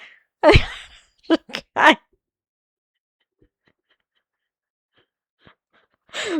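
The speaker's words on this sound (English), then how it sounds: "Bless you, cat." A cat gives a couple of short sneezes with quick snorting bursts, close and sharp against an otherwise quiet room, followed by a pause and another brief sound.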